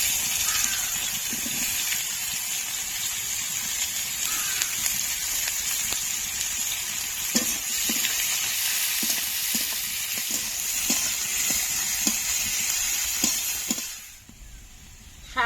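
Chopped onion hits hot oil with chicken in a pan for a traditional Bengali chicken dish, giving a steady loud sizzle broken by repeated stirring scrapes, then dropping away abruptly near the end.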